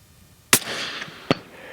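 Two sharp rifle shots at a 400-yard target during a precision shooting challenge, each a loud, abrupt crack with a short decaying tail, spaced under a second apart.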